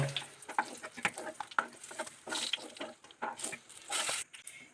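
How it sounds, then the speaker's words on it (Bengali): Pieces of pointed gourd (potol) fry in a pan, giving a soft, uneven crackle and sizzle broken by repeated stirring and scraping sounds. "এইভাবে আমি বাকি পটলগুলোকেও ভেজে নেব"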